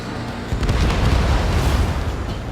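A heavy explosion from a missile striking an enemy bomber in the Ace Combat 7 flight game, a loud sudden boom that swells into a rumbling, crackling blast lasting a couple of seconds.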